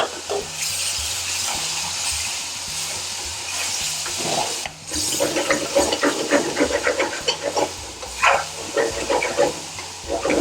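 Base gravy sizzling and bubbling in a hot pan while cooking Indian restaurant-style mango chicken tikka masala, a steady steamy hiss swelling into louder crackling spatters with no talking.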